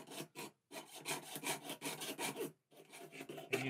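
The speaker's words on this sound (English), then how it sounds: "You just keep sawing as you're turning." A hand saw cuts through wood in quick, rhythmic back-and-forth strokes, close and crisp, with about ten rasping pulls broken by a couple of short pauses.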